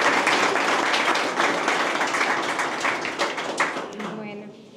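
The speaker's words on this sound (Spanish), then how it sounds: "un aplauso para él" Applause from an audience at a historical exhibition opening in Sosúa, dense clapping that holds steady and then tapers off, with a voice starting to speak as it fades.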